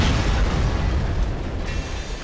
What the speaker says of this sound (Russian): Я слышал взрыв.